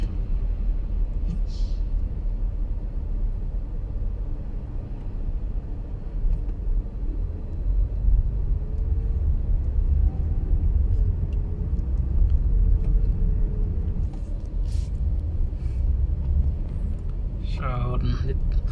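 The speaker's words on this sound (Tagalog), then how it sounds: "ang mga sakyan bagal magtakbo kasi traffic." Slow-moving road traffic rumbles steadily nearby, cars and engines droning in a continuous low roar for the whole stretch, with a brief higher whine near the end.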